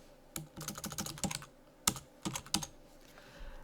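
Typing on a computer keyboard while entering text in LibreOffice Writer, quick bursts of crisp key clicks in uneven clusters with short pauses between, close and clear against a quiet room.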